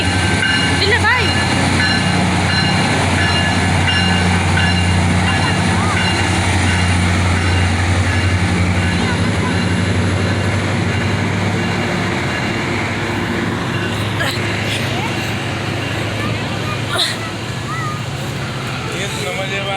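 Train passing and switching tracks at a junction, a sustained rolling rumble for the whole stretch with faint clatter and people talking quietly under it.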